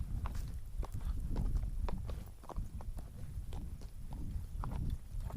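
A horse walks downhill at a careful pace on a springtime slope among blossoming trees, its hooves clip-clopping in a steady, close rhythm over low outdoor rumble.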